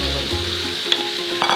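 Sauce hitting a hot wagyu steak sets off a loud, close sizzle that fades over about a second, followed by a few light clinks of utensils.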